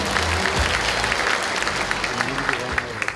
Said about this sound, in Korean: 큰 박수 다시 한번 보내주시기 바랍니다